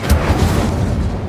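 Incendio fire spell cast in the video game Hogwarts Legacy, a loud, close, deep whooshing burst of flame with a boomy low rumble that sustains briefly and fades.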